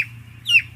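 Broiler chickens in a closed poultry house at night, giving a single short cluck over a steady low ventilation hum, with no one speaking.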